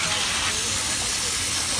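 Water runs steadily at a salon sink, rinsing freshly applied red hair color: a continuous, fairly loud broadband rush with no breaks from start to finish.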